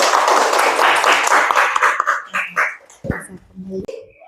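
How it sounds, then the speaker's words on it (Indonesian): Classmates in a school classroom clap for a fellow student, a dense burst of applause that thins into scattered claps and chatter, with a teacher's voice speaking over it. "kasih tepuk tangan buat temannya"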